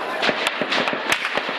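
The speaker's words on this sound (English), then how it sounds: "The crack of gunfire across Khartoum." Gunfire cracks across Khartoum during clashes in Sudan, a series of sharp irregular reports, some close and loud, others more distant, with about seven distinct bangs over a steady noisy background.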